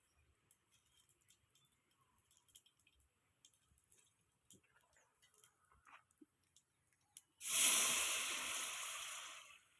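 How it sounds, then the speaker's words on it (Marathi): Scattered quiet clicks and taps, then water gushes steadily into a vessel for the last couple of seconds, close and fairly loud. "पाणी जास्तच टाकते ती"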